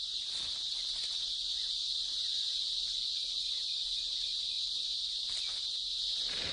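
A dense chorus of cicadas in trees drones on unbroken and high-pitched, a monotonous wall of buzzing with a few faint clicks underneath.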